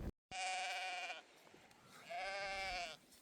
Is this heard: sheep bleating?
yes